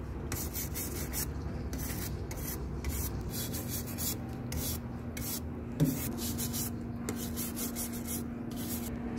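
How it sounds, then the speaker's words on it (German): Horse hooves are scrubbed with a stiff hoof brush in a long run of close, rhythmic rasping strokes over a steady low background hum, with one brief knock partway through. "Dann tue ich die Hufe mit der Hufbürste sauber schrubben"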